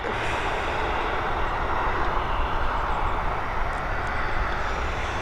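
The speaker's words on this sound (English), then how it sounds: "We're heading over to Milan, this Boeing 737." Loud, steady roar of a Boeing 737's engines, an 18-year-old jet registered in 2004 bound for Milan from Dublin Airport; broadband rumble holds evenly throughout with no talk.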